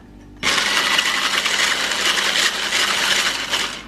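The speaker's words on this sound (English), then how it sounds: "And now we shall proceed with whisking these egg whites." An electric mixer whisking egg whites starts abruptly and then whirs loudly and steadily up close, a continuous buzzing motor with a slight rattle in the bowl and no talk.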